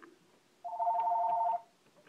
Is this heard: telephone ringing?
yes